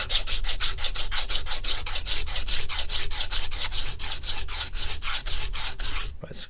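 A Martha Stewart MSE kitchen knife is drawn across a coarse whetstone in quick, even back-and-forth rasping strokes, roughly three per second, close and steady, before stopping abruptly near the end.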